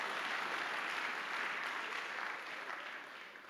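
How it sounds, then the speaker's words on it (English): Audience applause at a mentorship talk, a full, steady round of clapping that slowly fades toward the end, heard on its own without talk. "Don't I deserve a clap, my friends?"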